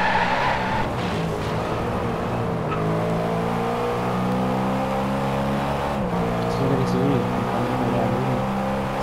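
A car engine in the racing game DRIVECLUB revs loudly and continuously through a drift, with tire squeal throughout and the engine bogging down mid-slide.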